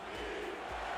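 A stadium crowd at a football game roars in a dense, sustained wash of cheering, fairly faint and distant, with no distinct voices standing out.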